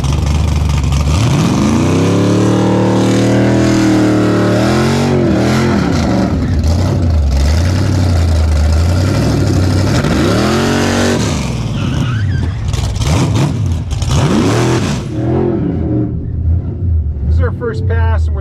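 A Tesla Plaid lines up for a night drag race against a Foxbody Mustang on sticky tires: a loud, sustained engine roar with repeated rising revs and surges, close and dense, with voices talking over parts of it.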